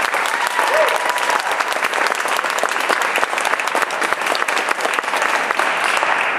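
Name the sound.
audience applause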